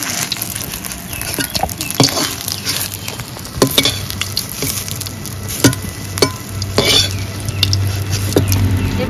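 Eggplant slices fry in hot oil, giving a steady sizzle broken by scattered pops and crackles, close by and without speech.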